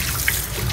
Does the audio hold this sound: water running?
yes